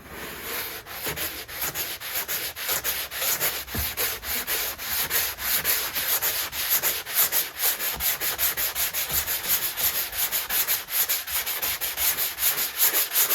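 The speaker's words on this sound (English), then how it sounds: "Scraping out all the imperfections." Scraping and sanding on a model railway town layout makes rapid, rhythmic rubbing strokes, loud and close, repeating steadily without pause and with no talk.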